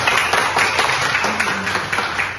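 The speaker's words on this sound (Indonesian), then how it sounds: "Tepuk tangan." Dense clapping from an audience at a tourism teaching session, a continuous broadband patter of many hands at fairly loud level without anyone talking over it.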